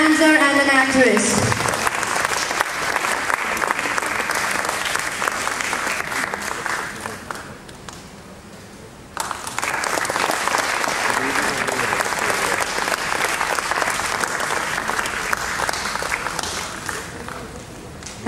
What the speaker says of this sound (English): Ladies and gentlemen, give a big round of applause for Dr. Malika Sarabhai, the famous legend, dancer and an actress